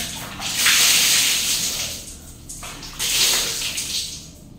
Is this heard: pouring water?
yes